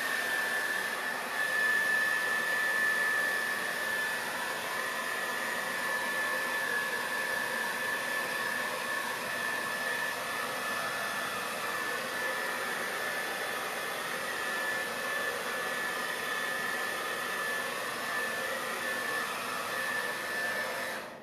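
A broken hair dryer blowing steadily as it dries a second coat of paint, a loud constant whooshing roar with a thin high whine running through it, unbroken from start to finish.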